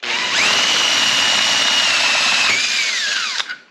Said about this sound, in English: so here's me drilling holes.